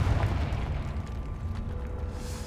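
A Confringo blasting spell explodes in Hogwarts Legacy, a deep booming blast that opens loud and rumbles out over a couple of seconds.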